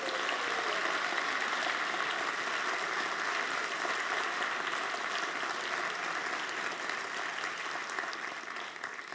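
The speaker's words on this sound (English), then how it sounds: "everybody involved in the charity sector deserves this huge round of applause" Sustained applause from an audience at a charity awards evening, a dense, steady wash of clapping that carries loudly and evenly throughout, easing slightly near the end.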